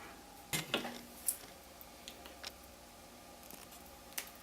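Scissors snip copper foil while the edges of a stained glass piece are wrapped. There are a few sharp, close cuts early on, then fainter scattered clicks and handling noises.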